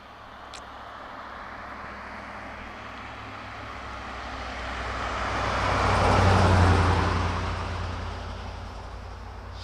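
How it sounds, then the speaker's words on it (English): A car passes along a road, its steady roar swelling to a peak midway and then fading away, with no one talking. "we're gonna get a car coming past here"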